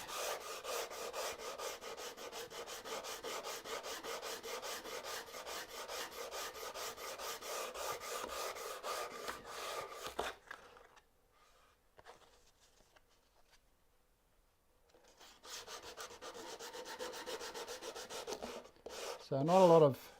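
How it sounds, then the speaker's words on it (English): Rhythmic back-and-forth strokes of hand sanding on wood, fairly quiet, stopping for a few seconds before resuming. "So not a lot of sanding necessary."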